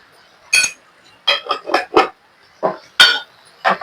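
A spoon scrapes and clinks against a pan while stirring coriander powder into okra curry, in a quick run of separate metallic taps with brief pauses between them.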